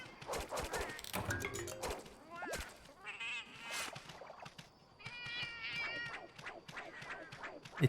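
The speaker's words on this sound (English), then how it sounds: "It's all kitty noises." Cartoonish cat meows and mews from the Palico companions in Monster Hunter Generations Ultimate, repeated in quick bursts alongside other game effects and chatter.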